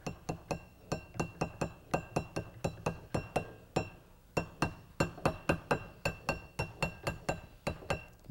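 A soft hammer taps an inner bearing cover into a Rolls-Royce early post-war brake assembly, a quick run of sharp, evenly spaced metallic clinks with a brief pause partway through, close and clear with no talking.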